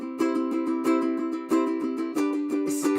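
Ukulele strummed through a chorus using a busy, accented cauliflower-style pattern, bright plucked chords ringing close and loud with repeated sharp strum attacks in a steady rhythm, no voice.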